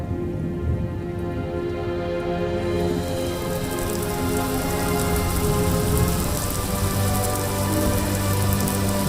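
Heavy rain drums steadily on surfaces during a thunderstorm outside a garage, with a constant dense patter and a low background rumble.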